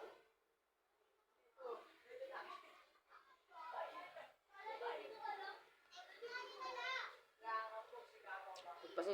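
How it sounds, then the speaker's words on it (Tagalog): Children's voices fill a home at mealtime, chattering, squealing and playing noisily in lively overlapping bursts at moderate distance, with brief pauses between outbursts. "di ko talaga mapigilan yung ingay ng mga bata"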